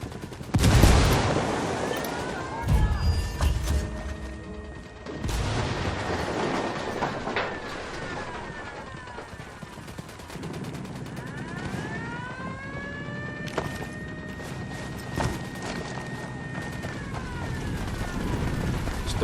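Ghost Recon Wildlands firefight with frag grenade blasts and bursts of gunfire, heavy booms and rattling shots layered over a whining engine drone throughout.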